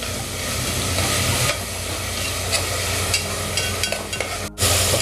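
Chopped onion sizzles and sautés in a hot pan while being stirred for a spicy Malvani mori (shark) fish mutton masala, a constant close frying hiss with occasional scrapes and a brief break near the end.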